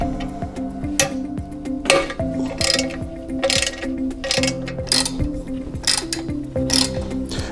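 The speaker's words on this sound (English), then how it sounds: "We'll just pop off these 4 bolts." Metal bolts on the primary belt housing of a machine being unscrewed with a 6mm Allen key, giving repeated ratcheting clicks and ticks in short bursts, close up with a steady mechanical hum underneath and no talk.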